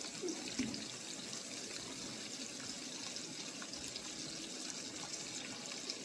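Hot water runs from a kitchen tap during home cooking, a continuous quiet rushing hiss that stays even from start to finish, with no speech over it.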